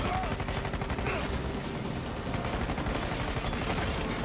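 Rapid gunfire from the Uncharted video game, dense sustained shots and bursts filling the whole stretch at steady loudness, with a faint voice briefly under it.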